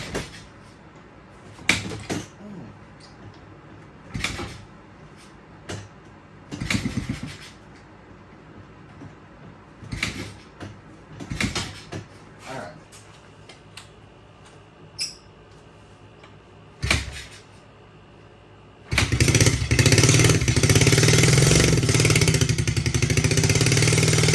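A 2007 Kawasaki KLX110 dirt bike with a small engine and thick oil, with Lucas Oil and STP added, is cranked repeatedly without firing. Short separate bursts of effort come close by, then a loud sustained rushing noise fills the last few seconds.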